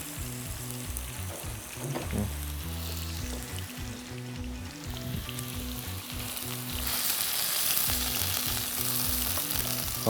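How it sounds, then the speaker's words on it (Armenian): Chicken breast sizzles steadily in a hot pan while seafood in coconut milk is being cooked, with a continuous crackling fry, brief stirring sounds, and low background music throughout. "Հավասարաչափ բոլոր կողմերից կրծքամիսը անպայման տապակում ենք, որպեսզի մեջի հյութային մասը մնա իր ներսում։"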